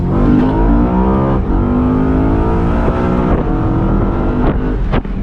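Loud engine of a 2011 BMW E93 M3 revving repeatedly, pitch climbing and falling in several bursts, close up with no talking.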